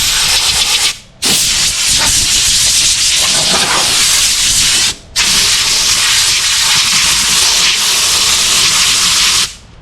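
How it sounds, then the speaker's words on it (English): Compressed air from a small blow gun blasting clogged sandpaper clean in an automotive paint shop: loud continuous hissing bursts with two brief pauses between them, close and alone. "you can take your little air blow off and"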